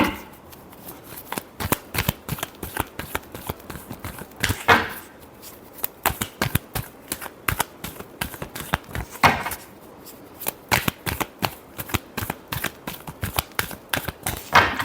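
Tarot cards are shuffled close up in a rapid, uneven series of crisp riffling slaps and flicks, with brief pauses between bursts and no speech.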